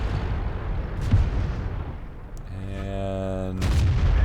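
A tank cannon shot rings out in World of Tanks on an arctic map, fired from a Type 59 behind a bunker: a booming blast with a harmonic mechanical whine, then a second heavy report over a low rumble.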